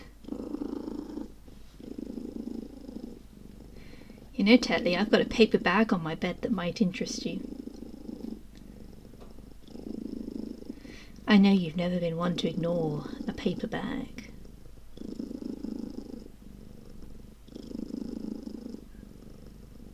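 Tetley the cat purrs steadily and close, a low rhythmic rumble pulsing throughout, while someone talks over it in two stretches.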